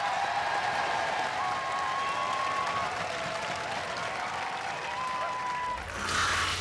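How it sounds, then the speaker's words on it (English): Studio audience at a Robot Wars semi-final applauding the Stinger team, a dense, steady wash of clapping that holds evenly for several seconds, with faint crowd noise underneath. "Ladies and gentlemen, give them a round of applause, the Stinger Posse!"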